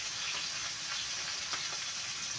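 Shrimp fry in hot oil with a steady, dense sizzle and crackle that stays constant and close throughout, with no voices.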